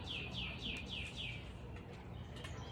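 A bird chirps a quick run of five bright, descending notes outdoors, fairly faint over a steady low background hum, then falls quiet.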